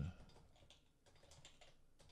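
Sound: typing on a computer keyboard

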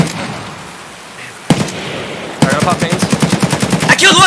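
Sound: gunfire in video game Escape from Tarkov

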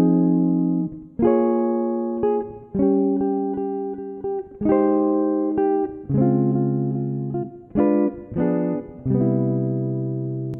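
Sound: jazz guitar chord melody

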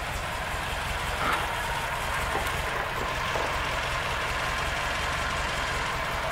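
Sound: Chevrolet Opala car engine idling

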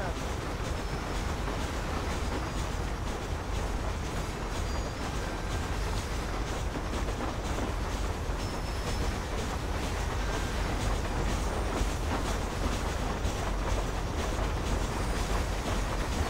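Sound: train riding along the rails in Red Dead Redemption video game

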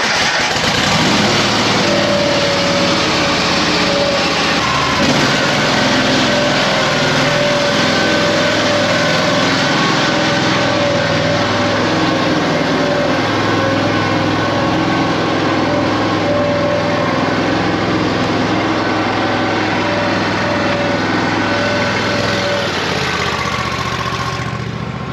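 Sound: 38 horsepower Kohler engine cold start in low 20s

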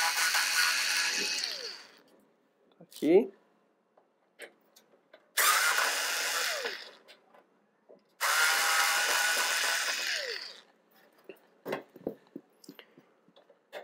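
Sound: electric screwdriver removing PC case screws

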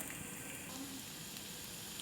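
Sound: dried chilies frying with garlic in olive oil

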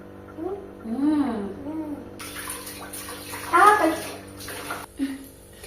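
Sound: water running while washing a child's hands, face and teeth

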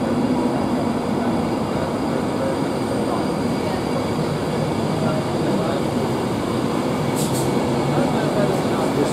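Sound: Avanti West Coast Class 390 train departing Carlisle station

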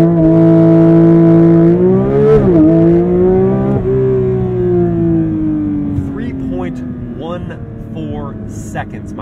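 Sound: Porsche 911 GT3 launch control acceleration to 60

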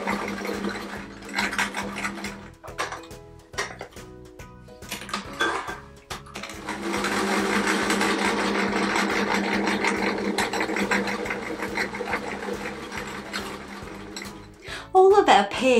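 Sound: sewing machine stitching quilt patch pairs

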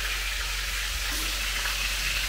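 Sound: meat and onion frying in a pan for lagman

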